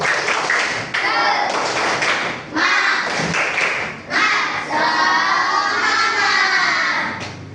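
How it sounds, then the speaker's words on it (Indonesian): A school class claps together in a quick rhythmic spirit clap, loud and close, with voices chanting along between the bursts. "kita tepuk semangat dulu. Tepuk semangat."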